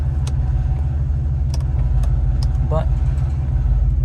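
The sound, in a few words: Jeep engine idling after intake manifold work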